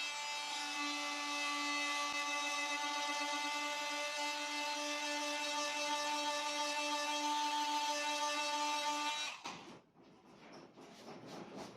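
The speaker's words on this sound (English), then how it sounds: "So as a sanding tool, this is impressing me far more than it did as a cutting tool." An Ingco 20V oscillating multi-tool sands wood with 120-grit paper, a steady high-pitched buzzing whine for about nine seconds before it cuts off, followed by a few faint rubbing and handling noises.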